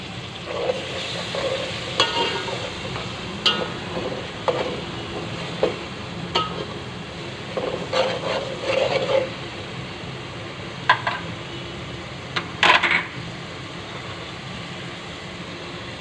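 Ginger garlic paste sizzles in a pan while being stirred for lobia chaat, a continuous close frying hiss punctuated by repeated spoon scrapes and clinks against the metal.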